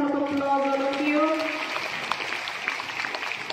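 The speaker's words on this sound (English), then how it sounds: "Let's give her a huge round of applause, all of you." Applause from the audience at a school singing competition rises as a voice finishes, then settles into steady, moderately distant clapping.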